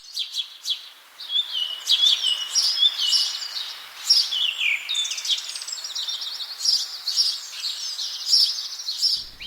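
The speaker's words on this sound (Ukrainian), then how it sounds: "у яку пору року можна почути голоси птахів?" Small birds sing and chirp in nature, with bright twittering phrases and trills that carry on steadily and clearly throughout, with no talk.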